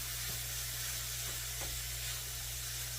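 Pork sizzling steadily in a pan on the stove, a continuous soft frying hiss with faint crackles and a low background hum throughout, no voices.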